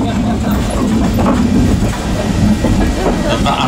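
A heritage railway train on the Appleby Frodingham line in Lincolnshire runs and shunts near Appleby Station, giving a steady close rumble with rhythmic clattering of wagons throughout.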